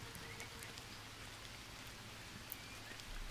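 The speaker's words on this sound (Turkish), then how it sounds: "Yağmur yağıyor şu anda." Steady rain falls in the Amazon jungle survival game Green Hell, a continuous broadband hiss of drops on surfaces with a faint low hum underneath and no talking.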